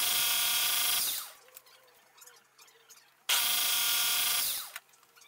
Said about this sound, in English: I'm going to take off about half a millimeter at a time until I get to the desired